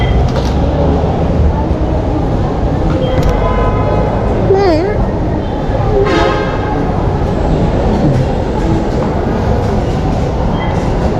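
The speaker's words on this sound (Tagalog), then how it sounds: "Train!" A train passes close by, a loud sustained rumble with rail noise filling the clip, while people talk over it and a voice rises briefly.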